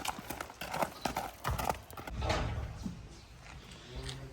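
A strong horse being saddled in a stable shifts its hooves, giving close, irregular clip-clops mixed with a few dull thuds and scuffs, fairly quiet overall.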